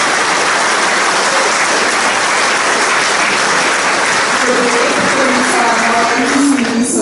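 Audience applauding steadily and loudly at a hotel's anniversary celebration in Izola, a dense, continuous wash of clapping that holds for several seconds, with faint voices murmuring underneath toward the end.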